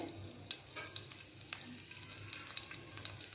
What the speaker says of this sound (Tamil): மிளகு சோம்பை தாளிக்கிறதுக்கு போட்டுருங்க